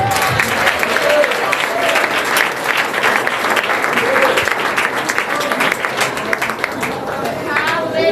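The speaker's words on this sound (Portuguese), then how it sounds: "E as palmas louvam ao Senhor" Loud congregational clapping in a church service, a continuous brisk patter of many hands, with voices and chatter mixed in underneath.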